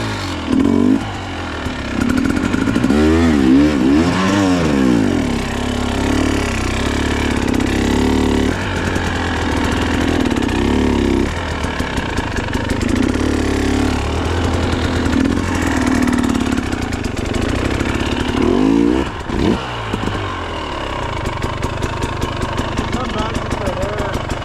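Enduro motorcycle engine revving hard in bursts and surges while the bike climbs over a rock on an off-road trail, close and loud, with a few spoken words between the revs.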